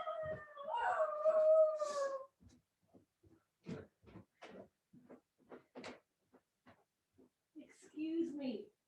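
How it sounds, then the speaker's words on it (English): A dog shut in a crate downstairs howls and screeches, a long wavering howl at the start then scattered yelps and whines, muffled and somewhat distant, with a final howling cry. "I'm not sure if you can hear all that screeching. I have a dog downstairs in a crate."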